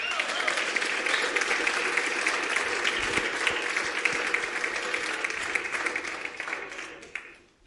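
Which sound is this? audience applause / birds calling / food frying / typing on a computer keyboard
audience applause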